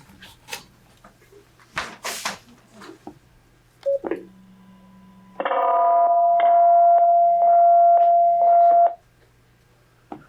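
Telephone keypad tones dialing into a conference call during a town selectboard meeting, several short beeps followed by a long steady tone over a faint room hum, with scattered soft background noises.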